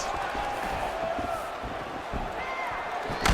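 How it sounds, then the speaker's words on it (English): A fight crowd murmurs and swells in reaction as a fighter takes body shots, a broad, distant roar that rises and falls with sharp impact thuds and a commentator talking over it. "you hear that crowd reaction every time he gets battered to the body"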